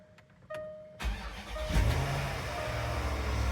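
A Land Rover LR4 (Discovery 4) engine cranks and fires after a starter motor replacement, then settles into a steady, close idle rumble with no talking.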